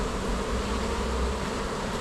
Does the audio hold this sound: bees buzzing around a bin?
yes